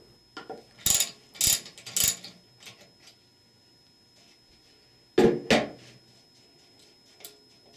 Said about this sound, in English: Use a 6-point half-inch drive 7/8 inch socket and ratchet to remove the hollow bolts which fasten it to the case.